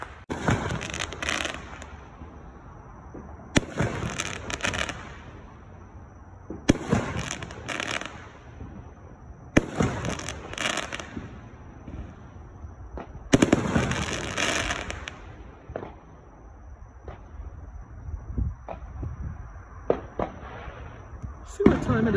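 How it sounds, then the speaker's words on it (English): New Year's Eve fireworks bursting all around, a series of sharp loud booms and crackling volleys spaced every few seconds, some near and some distant, with people talking quietly between the blasts. "I hear fireworks everywhere"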